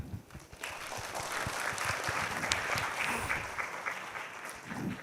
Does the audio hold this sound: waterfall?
no